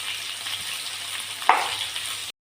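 Steady frying sizzle of tomatoes sautéing in a pan, continuous broadband hiss with a brief sharper clatter partway through, then it cuts off abruptly.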